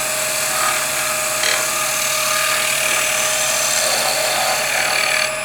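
A lathe chisel cuts a wooden spindle, drawn backwards along the work on its bevel, a loud steady high whirring scrape that holds constant with small shifts in tone.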